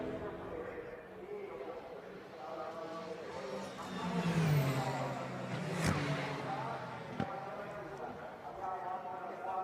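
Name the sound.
Ferrari 499P hypercar and 296 GT3 racing engines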